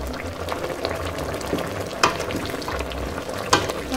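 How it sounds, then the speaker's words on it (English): Mpotompoto stew bubbles and sizzles in a pot while a spoon stirs through it, soft scraping and a couple of sharper clinks against the pot over a steady cooking hiss, with no voices. "so I'm just gonna stir and then keep cooking"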